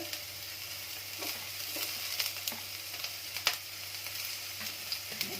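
Chopped onions and green chillies frying in hot oil over a low flame for egg bhurji, a soft continuous sizzle broken by light stirring clicks and scrapes, close and alone.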